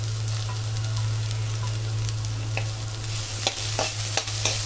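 Onion, carrot and capsicum sautéing in a pan, a continuous sizzle with scraping stirs and a few sharp clinks of the spoon toward the end, close and steady with no talking.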